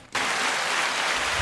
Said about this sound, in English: You get some clapping